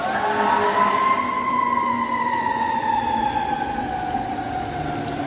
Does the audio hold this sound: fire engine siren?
yes